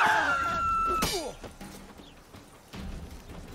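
Wooden barrels smash apart in The Witcher 3: Hearts of Stone, a sharp shattering crash near the one-second mark with debris clattering after it, set against game music and ambient combat noise.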